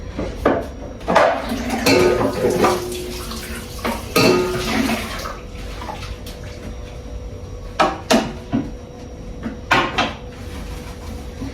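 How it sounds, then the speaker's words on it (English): Dishes, pots and cutlery clatter and knock in a kitchen sink during washing, with running water underneath and sharp, irregular clinks scattered throughout, close and fairly loud. "I'm currently clearing the sink cause kuna some utensils"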